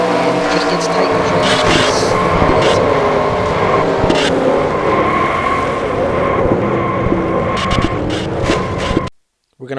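Stock cars race at Daytona in NR2003, a Camping World Truck Series event, their engines roaring steadily at close to 200 mph in a dense, continuous drone with brief sharper bursts before cutting off abruptly at the end.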